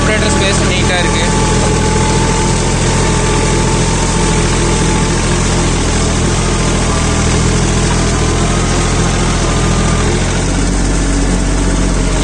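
A Swaraj Target 630 mini tractor with a Sakthi plus mini rotary tiller runs its engine, a loud, steady, close drone that continues throughout, with voices faintly mixed in.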